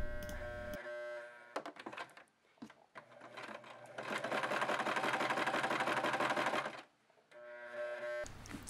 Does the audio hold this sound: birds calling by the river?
no